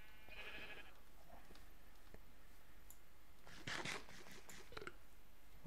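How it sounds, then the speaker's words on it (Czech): Sheep bleating in the Minecraft video game, a short bleat early on, then clicks and faint game noises over a low steady background. "Ovce."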